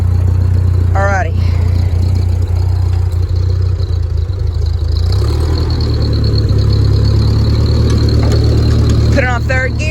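A Ford 2N tractor's engine runs steadily throughout a ride, a loud, close, low-pitched chugging with a constant rumble and a slight shift in pitch partway through as it picks up. Brief bursts of voices cut in near the start and the end.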